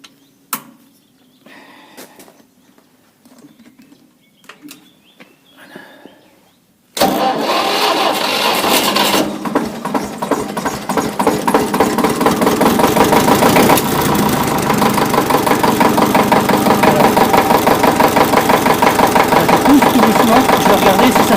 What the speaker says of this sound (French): Je vais démarrer le bolide.